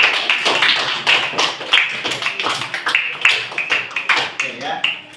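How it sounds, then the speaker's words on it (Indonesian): Classroom applause from a group of students, a brisk, uneven patter of claps running steadily throughout with a faint voice underneath. "Tepuk tangan untuk kita semuanya."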